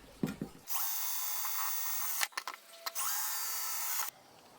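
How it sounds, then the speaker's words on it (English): Loud, high-pitched whine of a power drill boring into steel angle in two sustained bursts, separated by a short pause with clicks and scrapes. "I'll start by drilling holes in the ends of the angle pieces"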